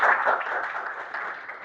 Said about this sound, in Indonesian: Oke, tepuk tangan untuk ketiganya.